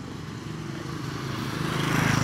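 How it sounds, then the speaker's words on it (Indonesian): Honda Grand motorcycle with a standard engine fitted with a PE 24 carburetor and thinner head and block gaskets, running steadily while ridden, a close, continuous low engine drone that grows slightly louder toward the end. "untuk Rian mungkin saya nggak bisa gaspol. Soalnya tangan kanan nyetir, tangan kiri ngerekam"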